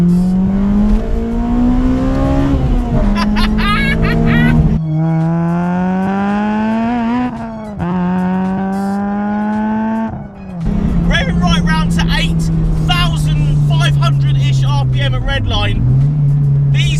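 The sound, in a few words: naturally aspirated car engine revving to redline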